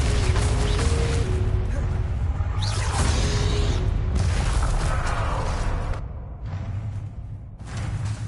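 Spell blasts in the video game Hogwarts Legacy, a run of loud booming bursts and whooshes over dense game effects and music, cutting in and out with short quieter gaps.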